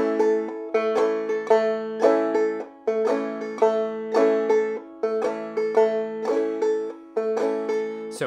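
Clawhammer banjo plays a tune in a syncopated skip pattern, bright plucked notes and brushed strums in a steady bouncing rhythm, played solo and up close.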